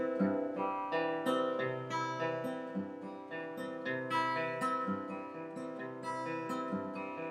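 An acoustic guitar plays a Travis-picking pattern with delayed pinches, a steady alternating bass under plucked treble notes, evenly rhythmic and close, with no talking.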